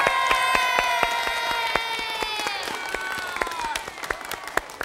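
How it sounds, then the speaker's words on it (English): On an elementary school TV quiz show, a studio audience of children claps and cheers, lively applause with scattered shouts under sustained music tones, gradually thinning toward the end. "Let's give him applause."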